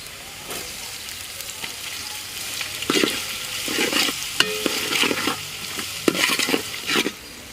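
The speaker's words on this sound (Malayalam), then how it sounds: "ഇഞ്ചിയും വെളുത്തുള്ളി ഒന്ന് മൂത്ത് വന്നിട്ടുണ്ട്" Ginger and garlic frying in a pan with steady sizzling throughout and intermittent scraping stirs growing busier midway, close by.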